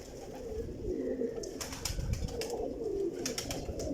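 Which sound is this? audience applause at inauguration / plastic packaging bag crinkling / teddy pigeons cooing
teddy pigeons cooing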